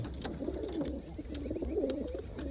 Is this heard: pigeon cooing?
yes